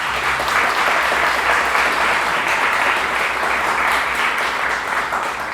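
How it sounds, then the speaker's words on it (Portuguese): A church congregation applauding during a Sunday morning service, a loud, sustained wash of many hands clapping that holds evenly throughout the clip without a break. "Dá uma salva de palmas para Jesus"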